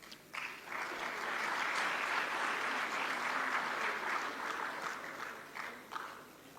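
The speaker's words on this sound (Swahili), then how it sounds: "tupongeze tena kwa makofi mengi" An audience at a state ceremony, where public institutions present dividends to President Samia, breaks into steady applause for several seconds before it tapers off.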